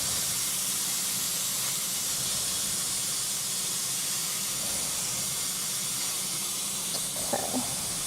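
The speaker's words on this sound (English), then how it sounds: "So sorry if that's loud, I'm just emptying the compressor." An air compressor is emptied, giving off a loud continuous broadband hiss of escaping air that holds steady throughout, close by, with a couple of faint clicks near the end and no talking.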